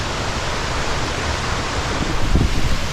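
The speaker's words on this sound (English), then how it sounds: "Göllinger waterfall" The Göllinger waterfall in Austria rushes with a loud, continuous broadband roar of falling water, close by and unbroken, with a few low thumps near the end.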